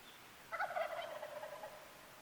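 Wild turkey gobbling in the mountains on a cold morning, one rattling gobble call heard at moderate distance over a quiet background.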